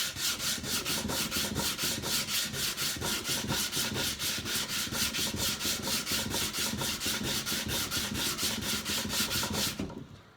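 A wooden shelf is sanded by hand. Steady, rapid back-and-forth rasping strokes sound close and continuous for about ten seconds and then stop abruptly, with no talking.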